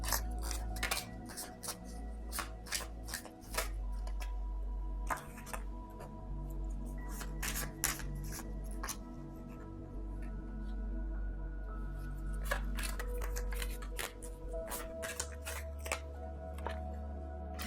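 Tarot cards being shuffled and pulled, with scattered light clicks, taps and paper rustles over a steady low hum, close and fairly quiet with no talk.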